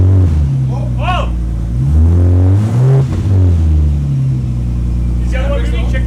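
A Ford EF Falcon with a Barra engine rumbles loudly nearby, its note rising and falling through several revs as it starts to move, with people talking over it.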